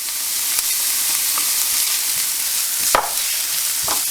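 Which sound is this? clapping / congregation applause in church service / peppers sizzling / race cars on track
peppers sizzling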